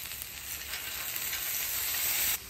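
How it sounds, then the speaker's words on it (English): Onions, peas and carrots fry in avocado oil on a flat griddle, giving a steady, even sizzle that swells slightly, close and moderately loud, with no talking. "I'm going to get my onions, peas,"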